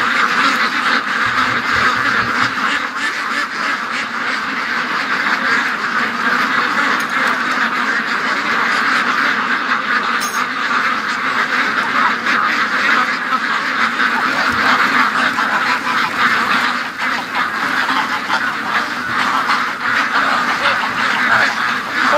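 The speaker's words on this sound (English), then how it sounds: "I'm gonna let the ducks out." Ducks quack continuously in a loud, busy flock as they are let out of their pen for the evening, close to the listener with no talking.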